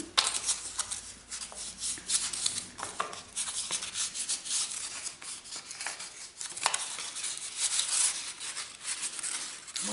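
Paper folds are pressed and creased by hand while making a paper globe, a dense run of close crinkling, rubbing and rustling strokes that continues throughout without speech.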